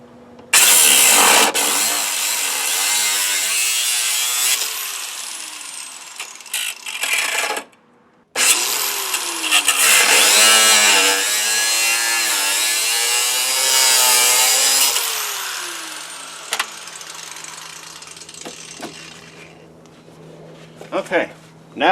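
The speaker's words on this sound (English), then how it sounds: "I'm going to go ahead and cut these two bolts out" A power cutting tool grinding through bolts on a Jeep Grand Cherokee during a fender flare install, loud harsh sustained cutting in long bursts with brief stops, close and dominant.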